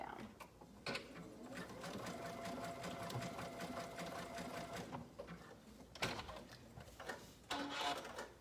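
A domestic sewing machine stitches swimsuit fabric in steady rapid runs, pausing briefly around the presser foot adjustments and restarting, close and fairly loud throughout.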